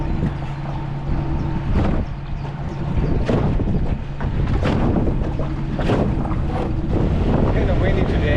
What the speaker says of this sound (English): Kind of windy today